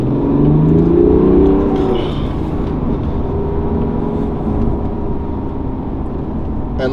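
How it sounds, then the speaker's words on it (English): A manual BMW E90 LCI 330d M Sport diesel accelerates on the road, its engine and turbo building into a loud, steady rising drone with a brief swell early on, heard from inside the car. "that little bit of lag in the throttle and the turbo that then turns into the surge of torque is really quite something"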